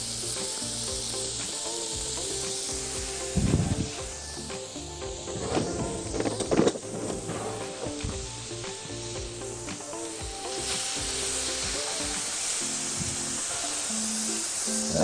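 Sausages sizzle on a hot grill in a restaurant kitchen, giving a steady close hiss with some louder spits and clatter near the middle; no talking.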